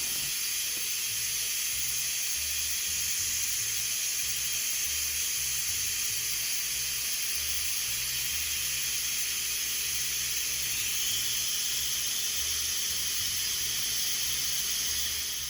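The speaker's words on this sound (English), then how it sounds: "we're just going to let the steam out" Steam vents from an Instant Pot electric pressure cooker after about 20 minutes of cooking stewed chicken, a steady, even hiss that runs unbroken for the whole stretch with no talking.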